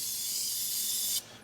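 A spray can sends a steady hiss of oil-based battery corrosion preventative onto a battery terminal for just over a second, then cuts off sharply, close and clear with no talking.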